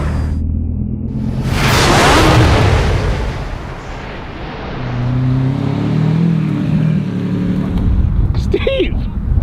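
A Lamborghini roars along a police training course, its engine surging and whooshing past loudly, then easing before revving again, with excited voices over the car.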